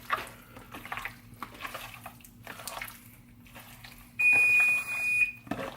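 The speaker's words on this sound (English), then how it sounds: "That was my oven right there, so my oven's ready." An oven's preheat alarm gives a single sustained high electronic beep, clear and fairly loud, after a stretch of kitchen mixing sounds with faint running water and a low background hum.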